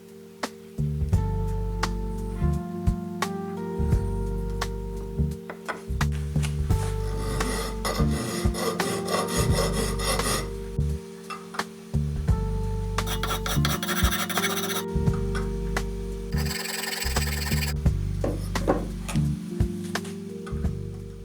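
A metal file rasps across the steel cap iron of a vintage hand plane being squared, rhythmic strokes of scraping in repeated bursts, close and clear with brief pauses between passes.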